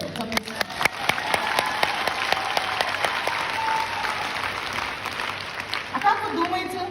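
An audience at a cosmetics sales presentation gives a brief round of applause with a few sharp distinct claps over low crowd noise, and a voice talks over it.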